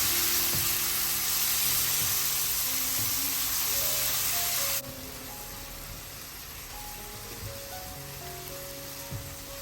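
Grated frozen tomatoes sizzling and spitting in a hot pan while stirred, a loud steady hiss that drops partway through to a quieter, continuing sizzle with occasional scraping.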